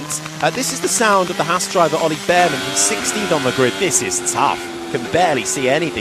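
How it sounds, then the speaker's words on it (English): Haas Formula One car of a driver at the 2025 Miami Sprint, onboard engine revving up and down in rapid rising sweeps as gears change, heard under a commentator's continuous talk. "This is the sound of the Haas driver"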